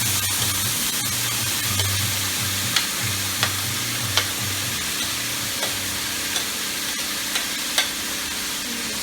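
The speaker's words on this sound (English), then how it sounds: "we're gonna add our sausage and our veggies, and we're gonna cook those down together for a little bit" Sausage and chopped vegetables frying in oil in a pot for Caribbean seafood gumbo, a steady close sizzle with occasional sharp stirring clicks and utensil taps, alone with no talking.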